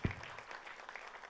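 Short burst of audience applause at a Bhojpuri film trailer launch event for Ghulami, a diffuse wash of clapping that stays fairly steady and moderately loud across the brief moment, with no voices over it.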